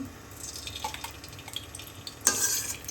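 Ghee going into a hot kadai for Eid jorda semai, soft scraping and light drips, then a sudden louder sizzle that swells near the end.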